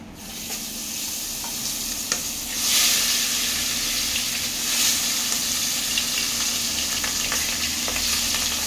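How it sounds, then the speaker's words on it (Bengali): Catla fish heads coated in salt and turmeric fry in oil with a loud, steady sizzle that swells into hissing bursts, close and constant. "মাথাগুলোকে লাল লাল করে ভেজে নিতে হবে।"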